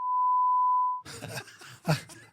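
A steady censor beep tone held for about a second over speech, followed by a voice talking and a short cough-like sound.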